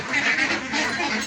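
Ducks kept in pens on a duck farm, a brief flurry of overlapping quacks and honking calls close by, busy and continuous for a moment.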